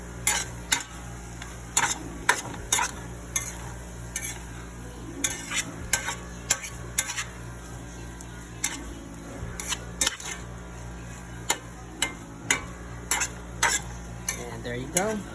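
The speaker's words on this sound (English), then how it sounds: "Now I'm gonna stir this and chop because it's got that egg in there." Fried noodles with egg are stirred and chopped in a pan, giving repeated sharp clanks and scrapes of a utensil against metal over a steady low sizzle, close and fairly loud, with no talking.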